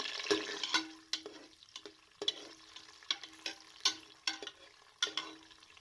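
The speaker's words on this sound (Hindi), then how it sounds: "ये देखिए जी, प्याज लाइट सा ब्राउन हो रहा है।" Two chopped medium onions crackling and sputtering in hot oil in a pressure cooker, with repeated sharp pops and stirring scrapes over a soft sizzle, close up and fairly loud.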